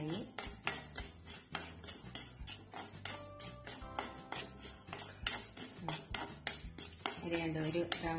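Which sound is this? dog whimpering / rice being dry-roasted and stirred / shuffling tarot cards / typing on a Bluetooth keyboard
rice being dry-roasted and stirred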